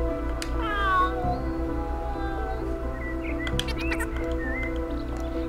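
A Sims 4 cat lets out a drawn-out wavering meow early on, then fainter mewing cries, all under loud continuous game music and background ambience.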